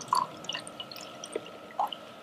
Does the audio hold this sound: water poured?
yes